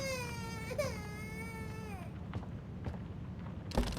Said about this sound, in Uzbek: Bolakay yig'layapti.